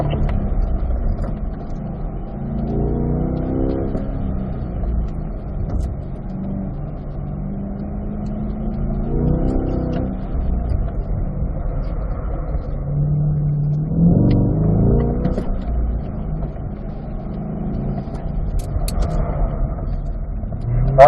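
A C8 Corvette engine drones at the start line of a track, a steady low rumble that rises and falls in a few revving surges, with no talking over it.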